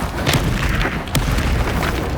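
A Hogwarts Legacy Incendio fire spell bursts with a deep whoosh and boom, part of a dense, loud stretch of spell impacts with a second sharp hit about midway.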